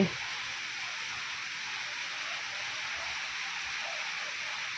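Continuous rain falling on a terrace garden, a steady, even hiss of dense drops that holds unchanged at a moderate level for the whole stretch, with no talking over it.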